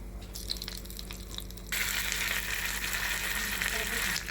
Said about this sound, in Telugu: స్టవ్ పైన చిన్న కడాయి పెట్టుకొని తాలింపు దానిలో నూనె పోసుకొని మినపప్పు ఆవాలు జీలకర్ర ఎండుమిర్చి కరివేపాకు కొంచెం ఇంగువ వేసుకొని తాలింపు పెట్టేసుకుందాము